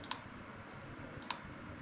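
A computer mouse button clicks twice, sharp and close, about a second apart, while selecting options in photo recovery software on a PC; a quiet room hum fills the gaps.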